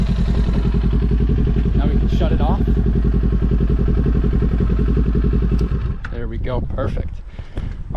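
A beginner rider's motorcycle engine idles steadily with a close, rumbling pulse, then the clutch is slowly let out and the machine pulls away, the engine note changing as it moves off while people talk.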